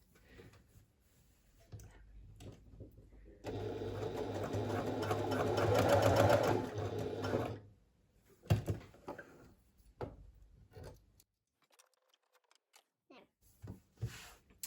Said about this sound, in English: I'm just going to stitch along there to secure one end of the elastic